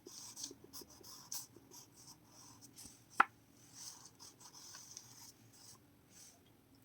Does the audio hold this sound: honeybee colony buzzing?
no